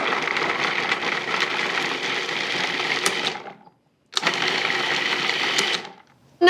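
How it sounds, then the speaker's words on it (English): A food processor chops coarsely cut carrots in loud, close whirring bursts, running about three seconds, stopping briefly, then spinning again before cutting off. "coarsely chopping them just to make it easy for my food processor"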